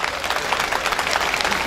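Dense, steady clapping from an audience at an outdoor Black Sea night stage show during a regional festival finale, loud and continuous for a short burst with no talk.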